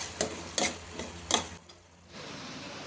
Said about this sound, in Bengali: সেই ভেজে রাখা চিংড়ি মাছগুলো একের পর এক দিয়ে দেবো।